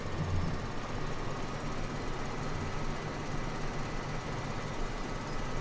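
Big Bud 747 tractor in Farming Simulator 17 drones with a steady, loud low engine rumble, continuous and unbroken throughout.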